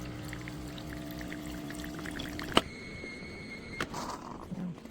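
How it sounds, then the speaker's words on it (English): A Bosch TPU40109 500 Series fully automatic espresso machine spurts a short stream of water on start-up, a soft steady pour under machine hum punctuated by a couple of clicks, close and with no speech. "When you first turn it on, it shoots out a little bit of water."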